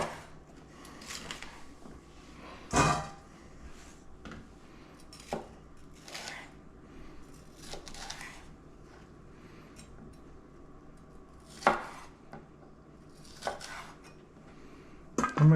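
Raw chicken being chopped into bigger chunks on a cutting board for sweet and sour chicken, with sporadic knife knocks and clatters at irregular intervals, a few sharp louder strikes, and quiet kitchen handling between them.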